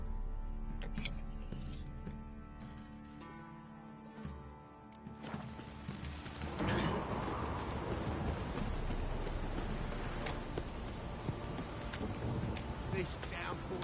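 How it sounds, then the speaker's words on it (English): Heavy rain pours steadily in the video game The Witcher 3: Wild Hunt, a dense hissing downpour that swells after a few seconds and keeps drumming on surfaces, with low rumbles beneath. "This downpour's a bastard"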